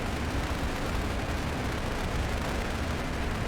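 Sustained rumbling roar of a rocket lifting off in the space-program strategy game Mars Horizon, a booster fitted with eight supplementary engines, steady and dense for the whole stretch with no pauses.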